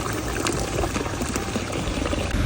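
A public drinking fountain in Rome runs with a continuous splashing pour of water, close and steady, with no talk.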